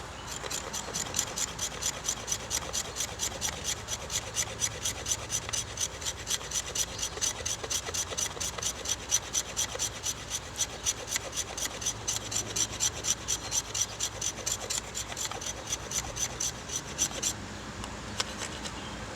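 A knife shaves a wooden stick in fast, evenly spaced rasping strokes, close and crisp, repeating steadily for about seventeen seconds before stopping; no one talks.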